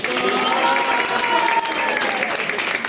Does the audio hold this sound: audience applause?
yes